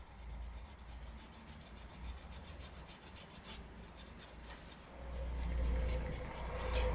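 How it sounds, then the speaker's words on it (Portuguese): A paintbrush pressed hard and scraped back and forth across a cotton dish towel, a soft continuous rasping rub that swells louder toward the end, with no talking. "Você tá escutando o barulho do pincel raspando no pano?"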